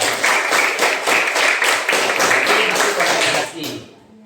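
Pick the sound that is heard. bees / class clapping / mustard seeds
class clapping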